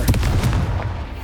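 A Confringo blast spell in Hogwarts Legacy goes off as a quick series of loud, punchy booms in close succession, fading into a short rumbling tail.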